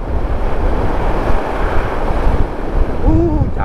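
Strong coastal wind along Indonesia's southern Jember road roars and buffets the microphone as a dense, rumbling wash, with loud, steady gusts and a brief tonal whine near the end.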